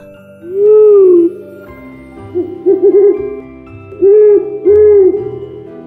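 An owl hoots up close, a series of loud, round, wavering calls: one long hoot, then a quavering run, then two more hoots in quick succession, over soft background music.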